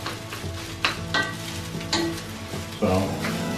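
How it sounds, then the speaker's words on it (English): Egg fried rice sizzles and fries in a very hot real cast iron pan, with steady crackling and several louder stirring scrapes and clatters close up over the sizzle, no voices. "Keep frying it."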